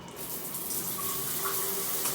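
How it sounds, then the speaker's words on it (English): Water streams from an all-metal rain shower head, a steady soft hiss of spray falling close by with no break, heard alone. "I'll put the power on so you can see the rain shower effect. I'll put the water on, I mean."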